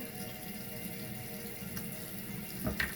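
Water runs steadily from a tap into a sink, a continuous close splashing rush with a brief louder splash near the end.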